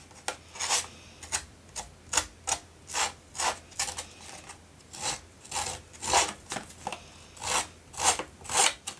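Tim Holtz distressing tool scraped along the edges of paper card, producing a steady series of about fifteen short, crisp rasping strokes in an even rhythm, close and fairly quiet.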